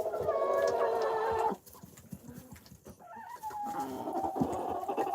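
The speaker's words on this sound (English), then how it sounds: "I gotta do a head count to make sure all the chickens are here." Chickens cluck and murmur inside a barn during winter evening farm chores, with one loud, steady call at the start and softer scattered clucks following.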